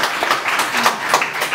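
A crowd at a Korean art song concert gives a short, fairly loud burst of clapping to welcome a guest, a dense patter of hands lasting under two seconds.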